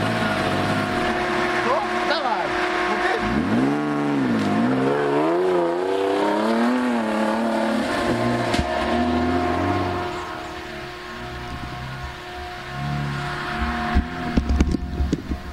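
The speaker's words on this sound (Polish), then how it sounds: "to auto pod górki naprawdę robi robotę, bo Roman bardzo lubi górki." Opel Frontera B 3.2 V6 climbing a hill, its engine droning steadily with rising and falling pitch as it pulls under load, loud and continuous, easing slightly toward the end with a few knocks and rattles.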